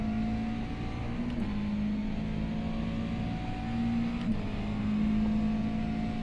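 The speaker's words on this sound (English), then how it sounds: "I'm just doing some drifting" A McLaren MP4-30 Formula 1 car drifting in a racing video game on a Green Hell track. There is a steady engine drone with tyre squeal sliding in pitch, then a brief gear change, heard alone.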